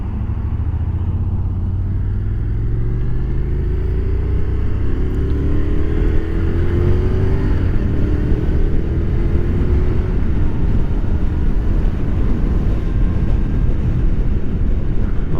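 Motorway traffic heard from a Honda NC750XA motorcycle riding onto the carriageway from a slip road: a continuous loud roar of wind and engines, with passing vehicles sweeping by and rising and falling in pitch.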